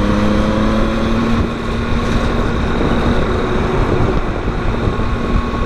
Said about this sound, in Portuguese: o som, a frequência mais alta do motor, mas é porque são três cilindros.